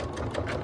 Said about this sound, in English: You probably all recognize that as a sewing machine.